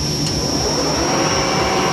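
A manual lathe takes a light roughing pass on wheel spacers at 630 RPM, a steady, loud machining whir with a high constant tone and no talking.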